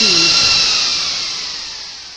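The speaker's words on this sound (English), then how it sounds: "it actually sounds like a freaking vacuum cleaner" A software synthesizer's whooshing, vacuum-cleaner-like hoover drone holds steady and slowly fades, with a brief pitched tone dipping at the start.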